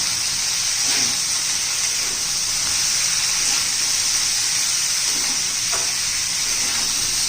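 Raw banana pieces with turmeric and red chilli sautéing in a pan, a steady loud sizzle and hiss throughout, broken by a few soft stirring scrapes.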